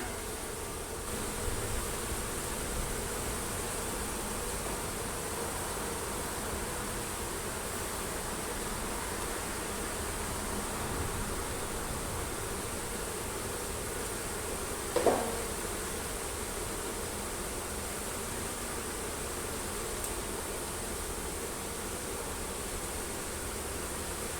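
Honey bees buzzing steadily during a beehive removal, a constant dense hum filling the background throughout, with one brief sharp knock partway through and no talking.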